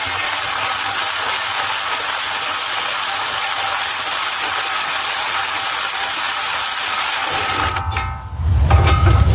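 A ratchet wrench tightens the outer tie rod nut on a 2009 Dodge Journey during front lower ball joint work. It makes a loud, continuous fast clicking, then stops abruptly and gives way to a low rumble near the end.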